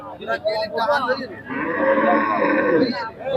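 A bull lets out a long, loud, drawn-out moo close by at a cattle market in Monirampur, following a moment of people talking.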